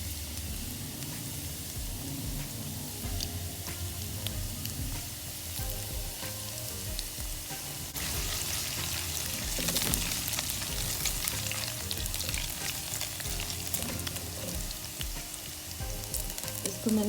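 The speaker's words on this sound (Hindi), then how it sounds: "ऑयल गरम है, अब इसमें मैं डाल दूँगी लहसुन अदरक जो मैंने चॉप किया था।" Chopped garlic and ginger sizzle steadily in hot oil in a pan for a chicken chow mein, a dense, continuous crackling frying sound up close with occasional stirring and no talk.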